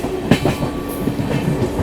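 Passenger train rolling on rails near Govindpuri, heard from aboard a superfast express around Kanpur, with a steady low rumble and a few soft clacking bumps over a short stretch, no talk.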